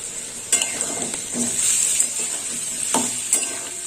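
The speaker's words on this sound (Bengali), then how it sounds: "একটু কষিয়ে নেবো" Green chili and ginger are stirred and sautéed in hot oil for a potato and eggplant curry, giving a steady close sizzle broken by several sharp scrapes and clinks of a spatula against the pan.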